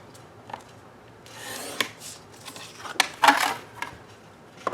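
A scoring tool runs over notecard paper in a short series of scraping strokes and soft rubs, with a few sharper ticks and taps, close and fairly quiet.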